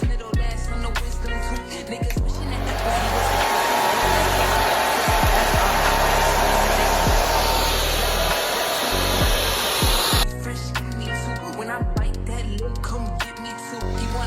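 Hair dryer fitted with a diffuser attachment drying curly hair, a loud steady whooshing roar that runs for about seven seconds between stretches of background music and clatter.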